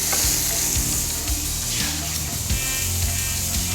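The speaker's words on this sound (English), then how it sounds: "And as always, I put my garlic in next." Garlic frying in a pan gives a loud, dense, unbroken sizzle up close, with occasional light stirring scrapes through it.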